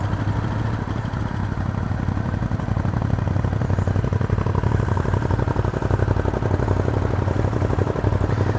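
A motorcycle engine rumbles steadily while riding, a close, loud, continuous low throb with a fast even pulse that holds throughout with no voices.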